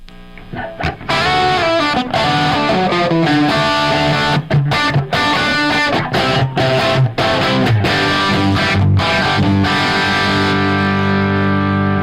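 Electric guitar played through a Klon overdrive pedal with a little echo and room sound: loud, continuous chords and ringing notes with gritty, mildly driven tone and no talking.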